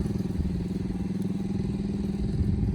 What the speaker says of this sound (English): My neighbor, he's on his little motorcycle moped